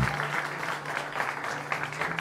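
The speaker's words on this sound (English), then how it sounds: "Can we get one more round of applause for the four of you?" A small audience at Caffe Lena claps for a four-piece student jazz ensemble, a short, moderately quiet patter of applause with a low steady hum underneath.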